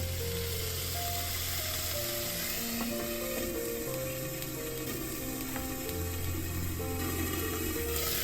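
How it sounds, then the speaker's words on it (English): Ginger garlic paste sautéing in hot coconut oil, a continuous dense sizzle and spatter heard up close, with faint clinks and a low steady hum beneath, no voices. "Heat some coconut oil and saute ginger garlic paste"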